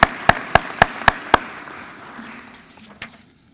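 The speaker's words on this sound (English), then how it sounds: "let's give OFCC a round of applause also" Applause at the Columbus Scioto dedication ceremony: six sharp, evenly spaced claps close by, followed by a softer spread of crowd clapping that trails away with one last clap.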